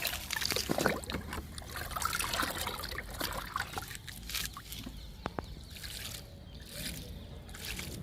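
Liquid fertilizer trickles and splashes onto potted chrysanthemum plants in a garden, a soft, uneven pour heard up close at low volume.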